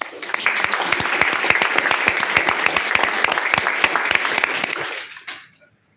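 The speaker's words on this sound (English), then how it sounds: "A round of applause for EcoShine." An audience applauds steadily for EcoShine, a waste-recycling startup, at a live-streamed pitch event; dense clapping holds for about five seconds, then fades out quickly.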